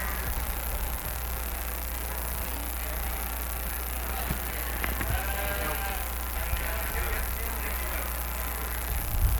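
Goats bleat at a 4-H livestock auction, with faint, scattered calls under a steady hiss of crowd and room noise, and no clear talk.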